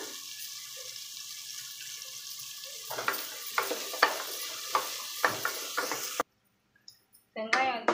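Sliced onions sauté with salt in a pan for vegetable biryani, a soft steady sizzle with a series of sharp stirring scrapes, then a brief silence and more stirring.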